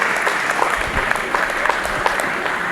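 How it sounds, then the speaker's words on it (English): An audience at an evening event gives sustained applause, a dense continuous wash of clapping from a crowd. "give yourselves a very big round of applause"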